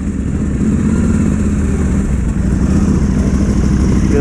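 Several motorcycles rumble loudly and steadily at the start of a dirt trail ride, engines idling and revving together up close, with no talk over them.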